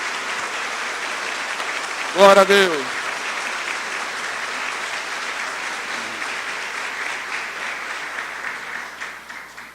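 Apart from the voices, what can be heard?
congregation applause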